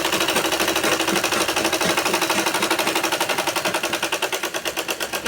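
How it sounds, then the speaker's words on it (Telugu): A normal domestic sewing machine stitching cloth, fast rhythmic chattering of the needle in a steady run that slows slightly toward the end, close and loud with no talk. "నేను వేరే క్లాత్ పైన కూడా కుట్టి చూపిస్తున్నాను."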